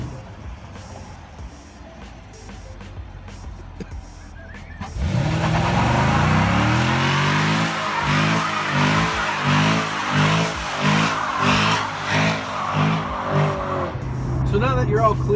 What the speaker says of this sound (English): you can hear it pegging off the rev limiter